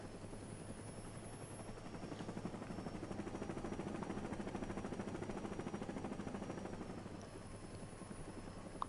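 A helicopter in the Saints Row reboot video game whirs with a steady, rapid rotor chop that swells slightly toward the middle and then eases, heard alone without voices.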